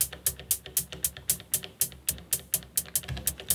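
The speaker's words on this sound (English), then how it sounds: "these ones are hi-hats with an LFO on them" Elektron Digitone hi-hats with a random LFO on decay, a steady run of crisp, bright ticks roughly every quarter second whose tails vary in length from hit to hit, close and alone with no talk.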